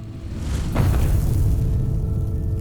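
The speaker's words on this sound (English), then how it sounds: "An explosion shattered the night." An explosion bursts out at night in a fantasy short film: a loud, sudden blast followed by a sustained low rumble that carries through to the end.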